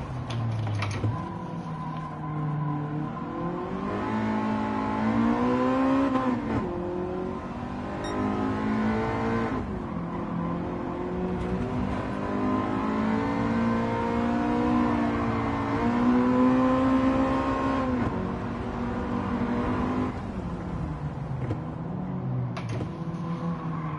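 A racing car in Gran Turismo 7 drones through repeated gear changes, engine pitch climbing and dropping over and over, loud and continuous, with faint keyboard-like clicks underneath.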